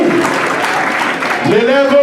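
Audience at a school excellence ceremony in a college hall applauds the top student, a brief burst of clapping that runs under a speaker's voice throughout.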